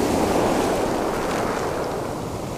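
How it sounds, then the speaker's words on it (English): Big sea swell surging onto a beach at night during winter sea fishing, a steady loud roar of breaking surf and wash with some wind buffeting, continuous throughout with no talk. "This is the big swell that they were telling me about coming in."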